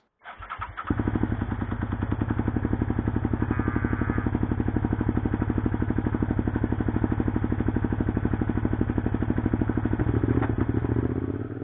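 A motorcycle engine catches and runs on its own with a rough, loping idle, a steady close thumping pulse that holds for about eleven seconds with a slight change near the end.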